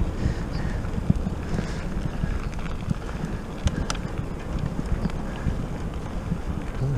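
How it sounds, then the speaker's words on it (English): Steady low wind on open moorland buffets the microphone with a constant rumble, with occasional gusty thumps and no one speaking. "Bloody windy."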